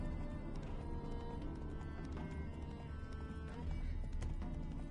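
Roach, the horse in The Witcher 3, galloping with a steady rhythmic clip-clop of hooves under layered game ambience and music, continuous and moderately close.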